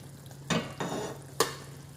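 Spinach paneer with a little butter in a pan gives off low frying noise, broken by a few brief stirring scrapes and clatters, near and moderately loud, with no voices.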